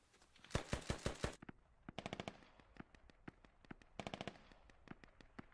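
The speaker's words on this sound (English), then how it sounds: "Looks like he's just firing a couple of warning shots." Automatic gunfire rings out in a Squad multiplayer battle, a loud opening burst followed by several shorter, more distant volleys of rapid shots with scattered single cracks between them, and no talking over it.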